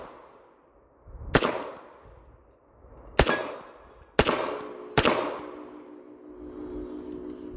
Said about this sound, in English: But let's get started with shooting here.